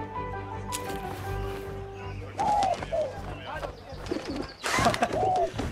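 A pigeon coos in the video game 11-11 Memories Retold, soft throaty calls repeating a few times under background music and a voice speaking.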